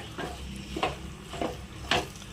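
Lemon pickle mixed with a date paste is stirred in a pan, giving a soft steady sizzle with a few distinct spoon scrapes and taps at roughly regular intervals, close and fairly quiet.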